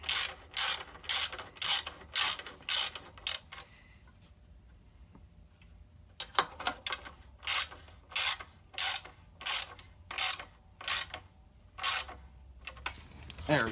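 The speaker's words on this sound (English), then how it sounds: "Just make sure you do your final tightening in a crisscross pattern." A ratchet tightens clutch bolts in a crisscross pattern during an SAE 14 clutch install on a dually build, giving bursts of rapid clicking strokes, a pause in the middle, then more repeated clicking runs, close and clear.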